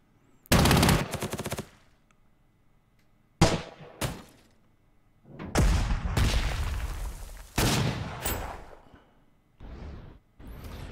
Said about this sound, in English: Big suppression right there with the artillery.